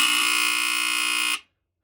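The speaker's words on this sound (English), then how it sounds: "the FXC-1 is said to have a Kobishi CLB26 AC vibratory horn that would have sounded like this." A Kobishi CLB26 AC vibratory horn from a rare line-corded FireX FXC-1 smoke alarm blares a loud, continuous buzzing tone for about a second and a half, then cuts off abruptly into silence.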